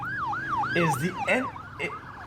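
An ambulance siren wails in rising and falling sweeps, loud and close, with brief sharp noises cutting in.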